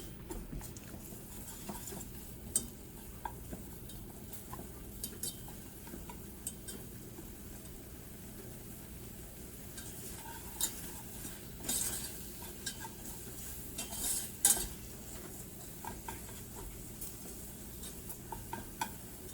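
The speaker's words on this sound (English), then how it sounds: "Mix that up. Cook that for a minute or 2 to let the raw flour cook out." Flour, chicken bouillon and dried basil are stirred in a pan over low heat, giving a soft sizzle. A spoon scrapes and taps the pan at irregular moments, faint and close.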